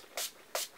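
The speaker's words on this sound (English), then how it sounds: "here we go with the Silk Elements Mega Silk Olive Heat Protective Spray." Two short, crisp hisses of Silk Elements Mega Silk Olive heat protective spray come from an aerosol can held close, misted onto hair during a blowout, with a brief pause between them.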